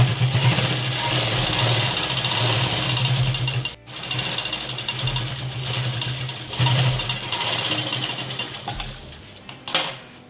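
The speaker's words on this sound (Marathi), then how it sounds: "आधी आपण साईडला टिप मारून घेऊया." A sewing machine runs continuously and loudly, stitching a cloth document cover, with one brief pause partway through before the steady mechanical whir resumes.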